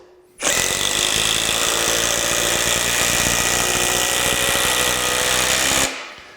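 A Metabo HPT 18V brushless impact driver, model WH18DEX, spins up abruptly and runs at a steady high-pitched whine for about five seconds, loud and close, then winds down.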